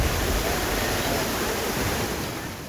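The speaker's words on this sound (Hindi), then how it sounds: "लगातार बारिश से पहाड़ों से झरने फूट पड़े हैं महाराष्ट्र के पुणे के लोनावाला में" Waterfalls bursting down mountainsides after continuous rain at Lonavala near Pune, Maharashtra, a dense, loud, unbroken roar of rushing water that holds steady from start to finish with no voices.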